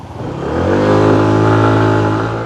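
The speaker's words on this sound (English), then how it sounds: "Pretty quiet engine, and let's take it out for a ride." A Daytona Virtus 125 scooter (Longjia XDV 125) pulls away with its quiet engine, its drone climbing steadily in pitch as it accelerates, close and continuous with no talk.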